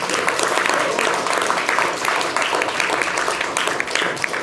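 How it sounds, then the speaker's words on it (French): Enthusiastic audience applause in a TV studio bistro-style debate set, steady dense clapping at moderate loudness with brief voice fragments mixed in. "Je vous demande de l'applaudir bien fort, Ignace."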